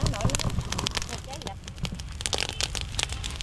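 A rice field burning slowly, its stubble and straw crackling and popping close by in dense, irregular bursts that continue throughout.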